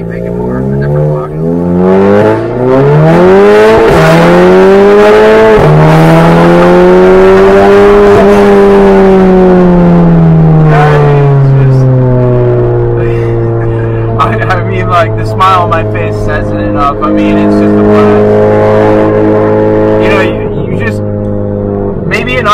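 A heavily modified Audi A3 accelerates hard, its engine note climbing loudly through the revs, dropping at a shift and pulling up again, close and sustained with talk underneath.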